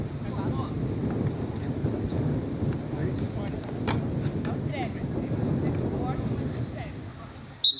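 Wind buffets the microphone at an outdoor volleyball court during a school sports competition in Jandaia do Sul, a steady low roaring rumble that fills the clip, with muffled voices underneath.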